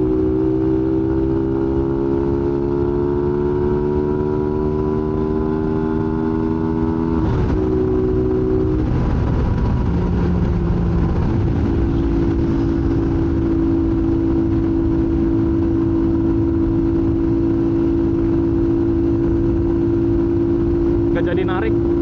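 A touring motorcycle engine on the road pulls steadily, pitch climbing smoothly, then drops after a gear change and settles into a lower steady drone, loud and close with wind rush throughout.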